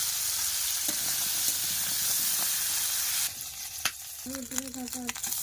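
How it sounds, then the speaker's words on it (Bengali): Crabs caught from the Sundarbans frying in hot oil, a steady close sizzle that gives way midway to sharper crackling with clinks of a utensil stirring and a few short tonal squeaks, no talk. "কাঁকড়াগুলো একেবারে বেশি বেশি ভাজবো না এবারে তুলে নেবো"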